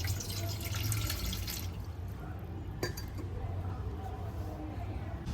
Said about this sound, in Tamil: அதில் கொஞ்சோண்டு தண்ணி ஊற்றிக்கிறேன்